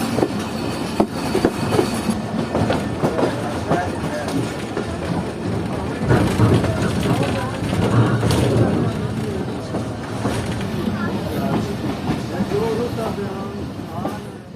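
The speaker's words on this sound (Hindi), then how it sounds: "और ये ट्रेन जो है प्लेटफॉर्म नंबर 1 की तरफ बढ़ रही है हमारी" A Jand Passenger train rolls toward the platform on a sharp curve on the line to Attock, with steady loud rumble and rail clatter throughout and faint wheel squeal.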